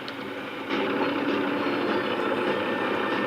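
A bus pulls away with a broad, steady engine rumble that swells abruptly under a second in and holds loud and close to the end, with no talking.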